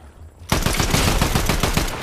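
Rapid automatic gunfire in the video game Fortnite bursts in suddenly after a quiet moment and keeps going as a loud, dense, continuous stream of shots.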